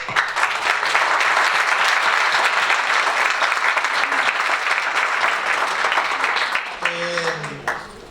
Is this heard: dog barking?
no